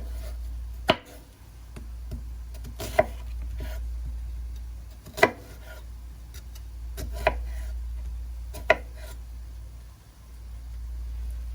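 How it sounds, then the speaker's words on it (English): A knife slices through an onion on a cutting board in a home kitchen, making about six faint, sharp taps spaced roughly two seconds apart over a steady low hum. "take our onion, and we slice, and we slice, and we slice"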